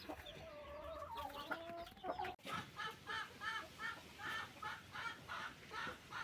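A hen clucks in a rhythmic series of short, close calls, preceded by a brief higher vocal trill before a sudden cut.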